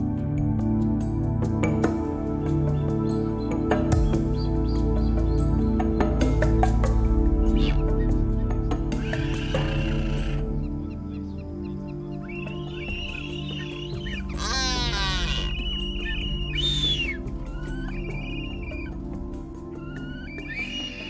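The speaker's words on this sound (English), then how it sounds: "So the sounds you heard are from male and female" A low continuous rumble carries under a series of sharp whistles and squeaky, rising calls from male and female blue-footed boobies in the Galapagos, some clustered together, fairly close.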